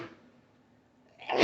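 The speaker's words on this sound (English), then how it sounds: "Sneezing fit, hey?" A man sneezes loudly and close by in a workshop while taking apart the running gear of a 1980 Triumph TR7, one sharp burst at the end after a quiet moment.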